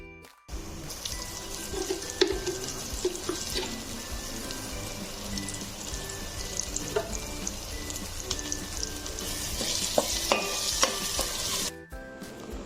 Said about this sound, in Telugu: ఇలా మంచిగా ఫ్రై అయింది కదా, ఆయిల్ మొత్తం పైకి తేరుకుంది.